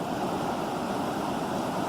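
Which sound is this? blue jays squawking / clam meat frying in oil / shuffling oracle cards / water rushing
water rushing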